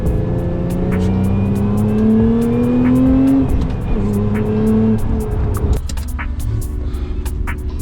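A Lotus Emira V6 with a manual gearbox drives hard on the Anglesey race circuit, its engine note climbing steadily under acceleration, then dropping through a gear change and braking into slow corners.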